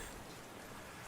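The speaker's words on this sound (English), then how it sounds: "now that we've got rain going in the background" Steady soft rain falling in the background, a faint even patter with no other sounds.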